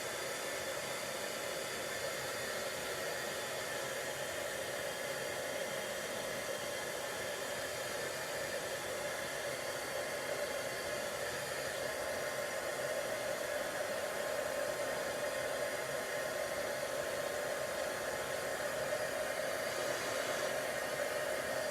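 Embossing heat tool blows hot air onto colored cardstock, a steady, loud whooshing roar that runs unbroken for the whole stretch with no talking.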